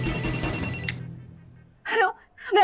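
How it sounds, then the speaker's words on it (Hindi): A phone rings with a bright electronic tone for under a second, then falls quiet as a voice begins speaking nearby. "सर, किसी अननोन नंबर से फोन आ रहा है सर।"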